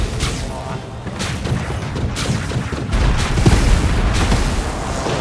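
Volleys of gunfire aimed at Falconeers in The Falconeer, a dense run of booming, crackling shots building louder through the second half, with no voices.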